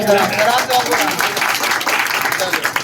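Audience applause greets a speaker at a public gathering in Dhandera Town on Laksar Road, Roorkee: a dense, steady wash of clapping lasting about three seconds at full loudness, with voices mixed in.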